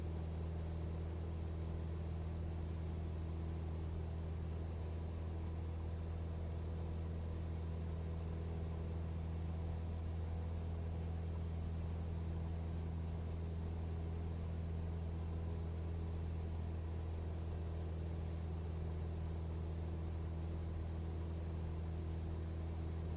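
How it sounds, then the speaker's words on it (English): A Cessna 172 engine drones steadily in flight in Microsoft Flight Simulator 2020, a constant low hum with unchanging tone throughout, fairly quiet and alone with no talking. "I'm gonna lean out the engine a little bit more."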